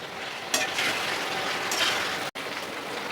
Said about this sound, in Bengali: মুরগিটা আমি পেঁয়াজের সাথে ভেজে নিব